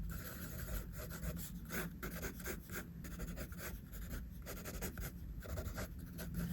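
Pencil sketching eyes on paper, with a close, continuous scratchy rubbing made of short repeated strokes and no talk.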